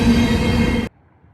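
A freight train with a single locomotive labors uphill at night, a loud, close rumble and rolling roar that cuts off abruptly, leaving near silence.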